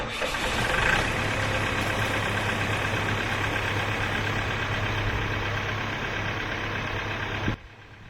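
An old-school Lincoln welder's engine idles at a steady low drone, near and constant, on a mobile welding job, then cuts off abruptly just before the end.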